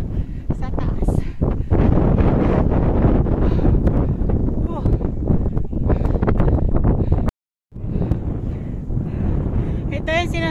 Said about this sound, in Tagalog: Pero super hangin dito sa taas.